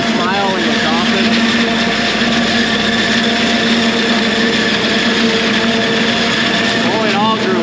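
A forage chopper harvesting 13-foot-tall corn runs as a steady, loud mechanical roar with a whining high-pitched drone, constant throughout with brief swells near the end and no talk.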